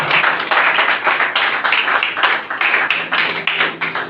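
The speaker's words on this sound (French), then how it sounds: "Acclamons pour la parole de Dieu." A church congregation claps together in steady rhythmic bursts, loud and close, a continuous round of applause with no voices rising above it.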